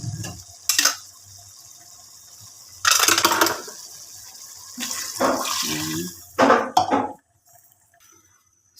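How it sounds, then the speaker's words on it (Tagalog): Water poured into a cooking pot for Filipino pork sinigang, coming in several separate splashing bursts between pauses, close and fairly loud, with the pot clinking, and a brief spoken word at the start. "Tignan na tayo maglagay dito guys ng tubig."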